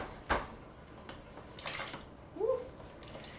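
Hot liquid in an Instant Pot splashes as potatoes drop in among split peas for soup, a few brief wet splats and sloshes with a small liquid bubble sound near the end, fairly faint and close.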